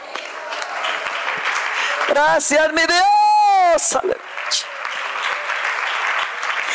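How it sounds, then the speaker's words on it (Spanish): A church congregation applauds during a sermon, with broad steady clapping before and after a loud, sung-out exclamation from a woman in the middle. "Dele un aplauso."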